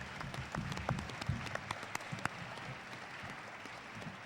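Audience at a Star Wars fan event applauds, a soft scattered patter of claps with a few louder hits, rather distant and fading out over a few seconds.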